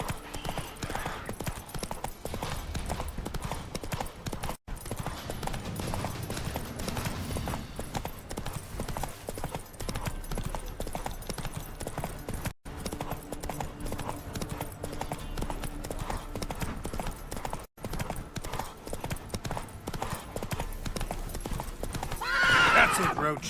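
Roach, the horse in the Witcher 3 video game, gallops with steady, rapid clip-clopping hooves and lets out loud neighs and whinnies, with a voice speaking over the sound.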